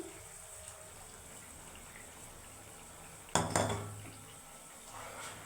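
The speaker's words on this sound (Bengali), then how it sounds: "চিনিটা দেওয়ার পরে আমি ঢাকনাটা আবার লাগিয়ে দিচ্ছি।" A lid set back onto a pot where bhetki fish in mustard sauce is simmering, a single sharp metallic clank partway through, preceded by quiet bubbling and followed by a brief rattle.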